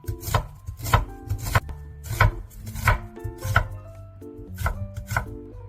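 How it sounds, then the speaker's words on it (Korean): Knife slicing a small onion into thin strips on a cutting board, a steady run of crisp, close chopping knocks at a brisk rhythm, with no talking. "작은 양파 한 개는 채 썰어주세요."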